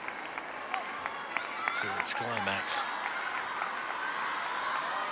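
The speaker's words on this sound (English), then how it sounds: "Huge applause from the crowd as that rally built up" Crowd applause rises at a table tennis rally during a mixed team world cup match in an arena, a steady wash of clapping under a commentator's voice.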